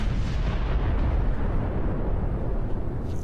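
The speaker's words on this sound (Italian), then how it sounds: "Quel maledetto cannone." An enemy cannon booms in Warhammer 40K: Space Marine, a heavy rumbling blast that rolls on continuously and fills the whole stretch, loud and low with no speech over it.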